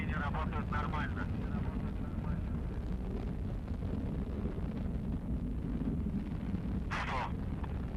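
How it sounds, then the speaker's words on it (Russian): Soyuz rocket first and second stage engines firing during the crewed Soyuz MS-18 launch, a steady broad low roar that fills the whole stretch, with brief voice fragments over it. "Двигатели первой и второй ступени работают нормально."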